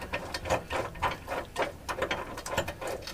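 Bolts are drawn down with a ratchet to raise an underslung grey water tank on an Iveco Daily van conversion, making a steady series of quick mechanical clicks, close and moderately loud.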